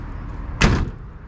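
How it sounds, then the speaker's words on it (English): The door of a 1957 GMC pickup truck shuts once with a solid, close thud after a quiet lead-in, and no one speaks. "Doors close very nice."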